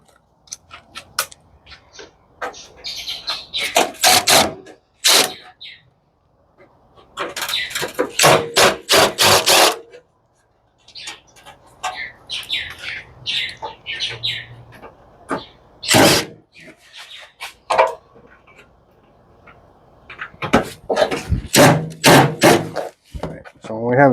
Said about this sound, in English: Let's start removing these screws.